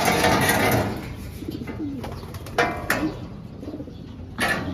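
Soft, low pigeon coos come and go amid rustling and fluttering, with a brief clatter or two nearby.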